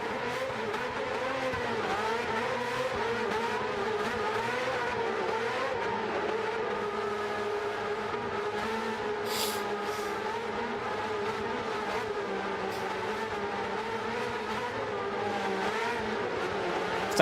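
Race car engine in Gran Turismo 7 holds a steady high drone with shifting revs and harmonic whine, loud and continuous throughout, with a brief tire squeal midway.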